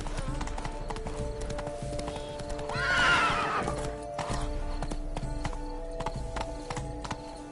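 A horse in the video game The Witcher 3: Blood and Wine, with rapid rhythmic hoofbeats that continue throughout and a loud whinny in the middle, all over a game soundscape.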